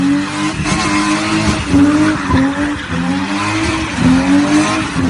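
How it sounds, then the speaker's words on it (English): A BMW 325is with the M20 B27 six-cylinder engine revs hard in loud, rising and falling pulls, with tire squeal mixed in as the car accelerates close by. "Listen to that 6-cylinder sing. That is the M20 B27."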